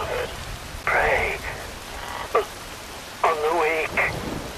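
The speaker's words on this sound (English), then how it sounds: "Wind blows, rain falls." Steady rain falling in the video game Metal Gear Rising: Revengeance, a soft even hiss running throughout beneath a voice that breaks in with a few short bursts.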